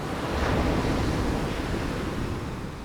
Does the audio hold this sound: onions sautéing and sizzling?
no